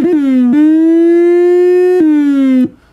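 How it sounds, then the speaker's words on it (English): An Ekoplasm synth's dub siren wails loud and up close in long sustained tones, its pitch sliding and jumping at a few points before it cuts off, with no talking. "So let's just play around firstly with the dub siren section."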